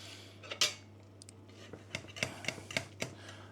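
Cheese and potato pie being served onto a plate, with a string of light metallic clinks and scrapes of a utensil against the dish, quiet and close, in a kitchen with a low steady hum.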